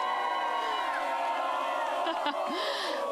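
Crowd cheering at a Friday high school football tailgate, a continuous roar of voices with whoops and shouts rising above it, loud and close, with individual yells near the end.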